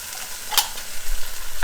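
Tomato paste is stirred into a hot frying pan, giving a close sizzle with scraping stirs and a sharp clack of utensil on pan, brief and fairly loud.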